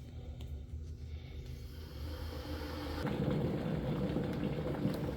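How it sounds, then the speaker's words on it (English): An electric kettle heating tap water on its base, a low rumbling hiss that swells and grows louder toward a rolling boil, with no speech. "Now that the kettle is boiled,"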